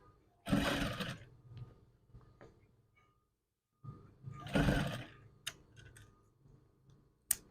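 A sewing machine stitches a lace curtain in two loud bursts of rapid mechanical whirring, separated by a quiet pause, with a few sharp clicks and taps from handling afterward.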